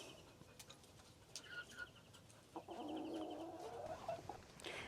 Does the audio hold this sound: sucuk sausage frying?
no